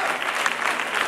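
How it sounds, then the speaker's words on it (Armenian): A television dance talent show audience claps steadily for a dancer, a dense, even wash of applause from a crowd that holds at a constant level for a moment without breaks. "ծափանենք նաեւ Նարեկին"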